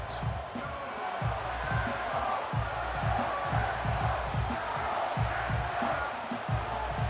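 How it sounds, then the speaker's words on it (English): A football stadium crowd at an NFL game between the New Orleans Saints and Green Bay Packers gives off a steady, loud roar, with rhythmic thumping and stomping running through the whole stretch. "The crowd making their presence felt."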